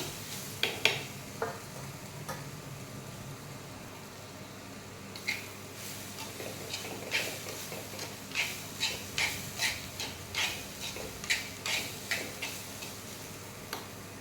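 A spoon stirs a beetroot stir-fry (poriyal) in a pan, making steady rhythmic scraping taps at about one per second over a low sizzle, close and moderately loud, with no speech.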